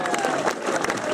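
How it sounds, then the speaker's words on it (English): Awards-night audience at a football club claps for Maureen Batchford, a dense, steady patter of many hands, fairly close, with voices faintly mixed in throughout this short burst. "one more round of applause for Maureen Batchford"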